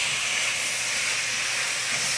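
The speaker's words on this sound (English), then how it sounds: "the vegetables are already kind of steaming nicely" Vegetables for minestrone soup steaming in a pot, giving a loud, steady, unbroken hiss close to the microphone with no talking.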